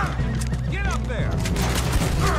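Gunfire in Red Dead Redemption 2 on PS4, a dense volley of shots cracking in quick succession over a rumbling game mix, with a voice talking through part of it.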